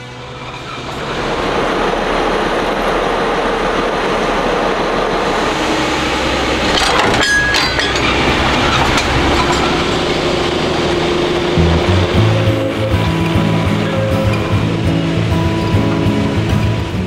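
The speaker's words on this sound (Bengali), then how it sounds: "ইংরেজি অক্ষর জি বা জেড এর মতন জিগজ্যাগ করে ট্রেনটি নিচু থেকে উঁচুর পথ ধরে" Darjeeling Himalayan Railway toy train climbing a zigzag reversal on the steep mountain line, a loud continuous rumble of wheels and carriages with clanks and squeals, rising after a quiet start and lasting throughout.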